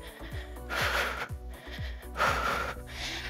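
Heavy, forceful breathing during a home cardio fat-burning workout: about three sharp, breathy exhales in a rhythmic pattern over steady background music.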